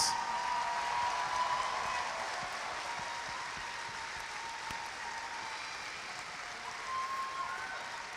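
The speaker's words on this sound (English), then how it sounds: "A round of applause." Steady applause from a large crowd in Goodyear Hall at a Cleveland Crunch 25th anniversary championship reunion game, a broad, even wash of clapping heard at some distance with a constant hall hum beneath.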